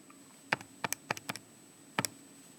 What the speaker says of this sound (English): I can type all that into my calculator